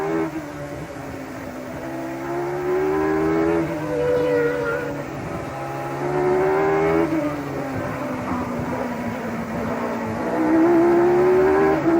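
Formula 1 race cars at the Japanese Grand Prix give off high, whining engine notes that rise and fall as they pass. Several cars overlap in a loud, continuous drone with repeated upward sweeps as they accelerate.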